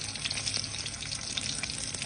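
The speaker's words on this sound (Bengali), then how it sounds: "আমি এই যে বেগুন ভাজার তেলে আমি একটু পেঁয়াজ দিয়ে দিলাম, পেঁয়াজ আর কাঁচা লঙ্কা।" Sliced onion and green chilli frying in oil left over from frying eggplant, a steady close sizzle with bright crackling pops, no voices.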